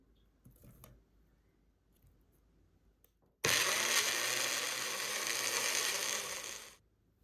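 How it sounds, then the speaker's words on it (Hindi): A kitchen blender grinds one large tomato, starting abruptly with a loud, steady high-pitched whir that runs for about three seconds and then winds down, after a few faint clicks from setting it up. "एक बड़े साइज का टमाटर, इसको पीस लेते हैं"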